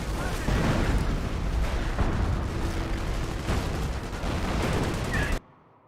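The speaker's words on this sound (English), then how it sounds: "More artillery behind them." Artillery pounds away in Company of Heroes, a dense, loud barrage of rumbling blasts and gunfire that rolls on steadily, then cuts off abruptly near the end.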